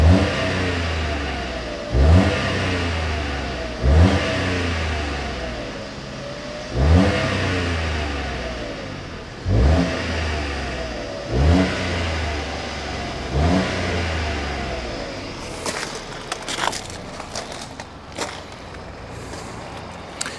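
A smoky car engine warms up while being revved in short, regular bursts about every two seconds. Each rev rises over a rough, close idle, with no talking.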